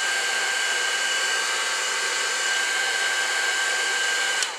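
A heat tool blows continuously while drying silver ink sprayed onto cardstock, a steady close whooshing drone with a faint whine that holds evenly for several seconds and cuts off abruptly at the end.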